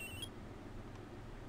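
Electronic ringing of a cell phone in the Phoenix Wright courtroom game, a short high beeping tone lasting a fraction of a second at the start, then fading into a low background hum.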